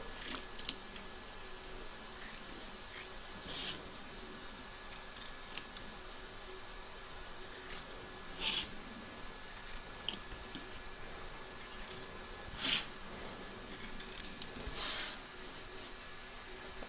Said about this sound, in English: Trim away the excess batting.